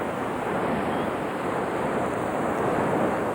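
Sea waves surge and break steadily onto the beach at a seaside resort on the Breton coast, a continuous broadband roar with some wind noise on the microphone and no voices.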